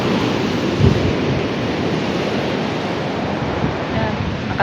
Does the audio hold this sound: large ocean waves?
yes